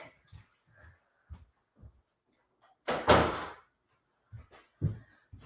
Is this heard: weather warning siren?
no